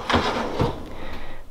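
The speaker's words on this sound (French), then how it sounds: "ici, c'est une espèce de tiroir à bijoux" A jewelry drawer in a bedroom wardrobe slides open, giving two short wooden scraping bursts close by, then fading to quiet room noise.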